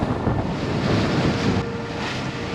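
Steady wind roaring across a sailboat cruising between Bahamas islands, buffeting the microphone loudly and continuously, with a wash of waves underneath and no voices.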